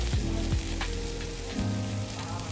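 Garlic bread sizzles and fries in butter in a pan over a low-to-medium gas flame, a steady close crackling hiss that runs on without pause.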